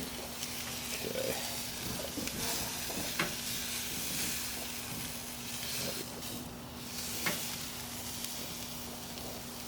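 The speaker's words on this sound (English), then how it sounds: "We'll keep this going for the sear on the prime rib." Prime rib searing on a roaring-hot grill with the lid open, giving a steady broad sizzle and crackle that holds at moderate loudness throughout, with a few sharper pops along the way.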